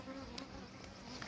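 Honeybees buzzing around an open hive during a beekeeper's inspection, a steady close droning hum with a few louder passes as bees fly near.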